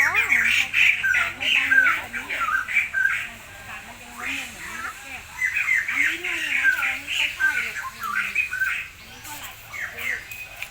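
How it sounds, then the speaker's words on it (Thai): Crows squawk and chirp repeatedly nearby at a cafe, harsh calls coming in bursts, while a person talks over them. "เสียงนกร้อง"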